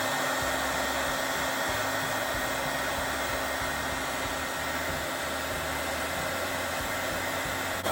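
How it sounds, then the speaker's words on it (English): A heat gun blows hot air onto a Funko Pop vinyl head, a steady loud broadband whoosh with a low motor hum that holds unbroken and alone throughout. "after heating this up,"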